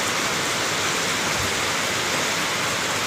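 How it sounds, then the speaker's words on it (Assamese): Heavy rain pours down steadily on Guwahati city amid flooding, a dense, loud hiss of water drumming on surfaces with no pauses and no voices. "চাওক ধাৰাসাৰ বৰষুণ পূৰা একদম অৱস্থা নাই চাওক"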